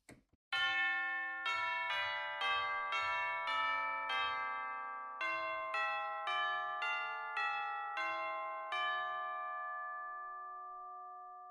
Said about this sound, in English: Let's hear some of the tubular bells here as well.